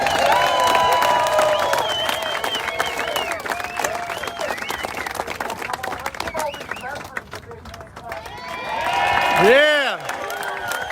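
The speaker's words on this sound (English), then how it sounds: "Big round of applause" A crowd at a Memorial Day rally in Chicago breaks into sustained applause with cheers and whoops. The dense clapping carries on throughout and swells near the end.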